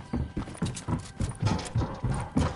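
Footsteps from a Fortnite match, a steady run of low thuds about every quarter second, moderately loud and continuous across the moment with no talk over them.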